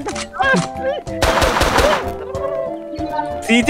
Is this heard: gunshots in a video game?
yes